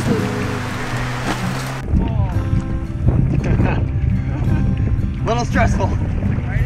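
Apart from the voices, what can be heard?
wind while paddling a canoe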